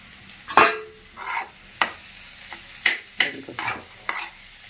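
Curry leaves go into a hot pan for egg poriyal, giving a low sizzle with a series of sharp spatula scrapes and stir strokes spaced about half a second apart.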